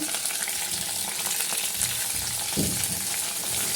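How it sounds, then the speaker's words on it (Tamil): Finely chopped tomatoes sauté with onions in a pan for a pepper garlic kuzhambu, giving a steady close sizzle with scraping stirs, and no one speaks. "இதுவும் நல்லா மசிஞ்சு வர அளவுக்கு வதக்கி விடுங்க"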